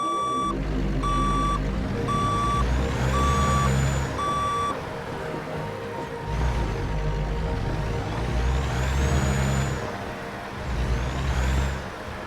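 Steady reversing beeps pulse in a regular rhythm from a logging truck in American Truck Simulator, over a deep diesel engine rumble with hissing air brakes and rising and falling revs.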